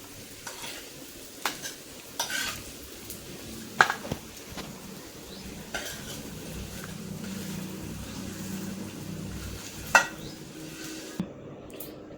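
Cooked food is scraped from a pan onto a plate, with scattered spatula clinks and scrapes over a low, lingering sizzle.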